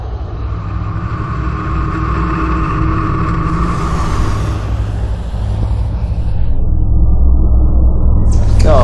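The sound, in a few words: tractor engine accelerating on speed record run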